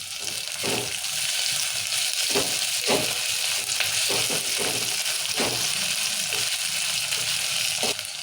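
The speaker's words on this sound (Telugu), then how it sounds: "ఇప్పుడు నూనెలో ఇవన్నీ మంచిగా పగ్గించుకోవాలి" Chillies, onions, tomatoes and curry leaves frying in oil with a loud, continuous close sizzle, broken by repeated soft scrapes and knocks of stirring throughout.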